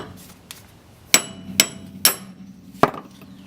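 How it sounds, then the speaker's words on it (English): A hammer whacks wheel studs out of a car hub, four or five sharp metallic strikes spaced irregularly, loud and close in an otherwise quiet space. "Like I said, it should just be a few good whacks. And just like that, they're free."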